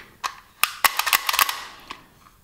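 A Novritsch SSX23 airsoft pistol fires a quick, irregular string of sharp, close snapping shots, some of them bunched together, in a quiet workshop with no talking.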